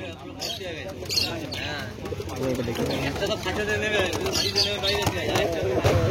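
Many pigeons coo in overlapping soft, throaty calls, a busy flock close by at the Konnagar pet market, with people talking over them.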